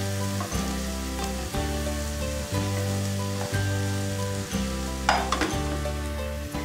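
Diced tomatoes stirred in a frying pan while making pav bhaji, giving a steady close sizzle with soft scraping strokes of stirring throughout and a brief clatter near the end; a tonal hum runs underneath.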